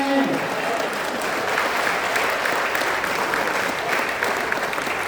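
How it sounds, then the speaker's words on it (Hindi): A crowd at a comic Hindi poetry gathering claps together in a dense, sustained burst. A voice is heard briefly at the start, then the even roar of many hands holds steady throughout. "ताली बजाओ"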